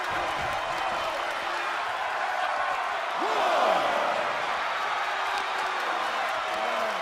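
A wrestling arena crowd at an NXT match roars steadily throughout and swells louder around the middle, with a commentator talking over the noise.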